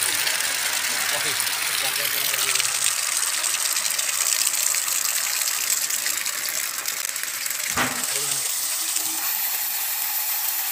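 A household water pump fitted with a straw pipe runs with its valve fully open, a loud, continuous gush of water over the hum of the motor, broken by one brief thump.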